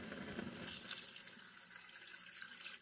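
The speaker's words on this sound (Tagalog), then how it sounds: "Lagyan natin ng tubig guys." Tap water pours steadily into a cooking pot as a home stew is being made, a close, continuous splashing fill that softens slightly toward the end, with no talking over it.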